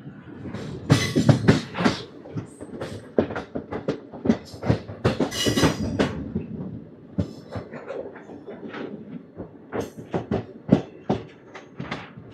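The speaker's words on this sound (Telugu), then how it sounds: "గొల్లపురం స్టేషన్ నుంచి మన ట్రైన్ స్టార్ట్ అయిపోయింది" Machilipatnam Express, train 17220 from Visakhapatnam, pulls away from Gollaprolu station with loud, close clickety-clack of wheels over rail joints, rhythmic clattering bursts that grow steadier as it gathers speed.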